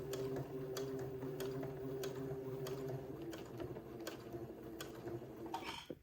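A sewing machine stitches a smocked jumpsuit, running steadily with a mechanical whir and regular clicking ticks throughout, fairly quiet and close, ending with a brief clatter as it stops.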